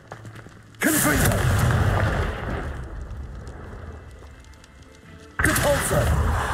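A Confringo explosive spell goes off in Hogwarts Legacy, a loud fiery blast that rumbles and fades over several seconds, followed by a second burst near the end.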